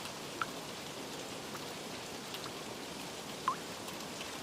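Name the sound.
rain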